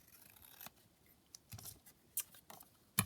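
Scissors trim a printed paper image in a card-making craft setting, giving a few short, crisp snips spaced irregularly, close and fairly quiet.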